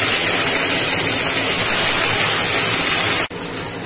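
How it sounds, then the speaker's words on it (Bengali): A loud, steady hiss of katla fish belly pieces frying in hot oil runs throughout, cutting out briefly near the end before resuming. "কি দারুণ মাছটা ভাজা হচ্ছে"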